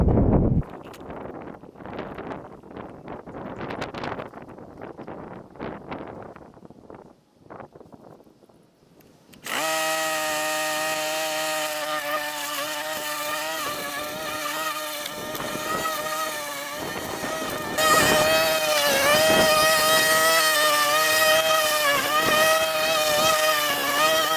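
A lawn mower runs at an allotment, its engine starting up after a few seconds of rustling and then droning steadily and loudly, swelling higher partway through as it pushes across the grass.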